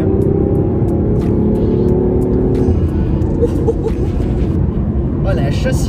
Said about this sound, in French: Un moteur derrière qui pousse, c'est impressionnant.